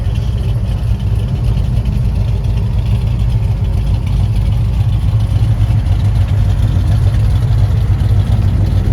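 A muscle car engine idles steadily nearby at a drag strip, a constant low rumble with no pauses or revving.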